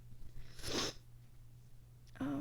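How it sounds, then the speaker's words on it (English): Faint allergy sneezes from a person, a sharp burst near the start and another breathy burst at the end, separated by quiet room hum. "I don't really feel much better now after sneezing so much."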